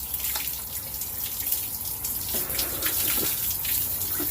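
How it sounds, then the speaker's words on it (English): Running tap water splashing at a sink as soap is rinsed off the face after a shave, a steady close hiss with small splashy accents and no talking. "make sure that you rinse it all off"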